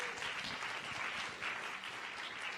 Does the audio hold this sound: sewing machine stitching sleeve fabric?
no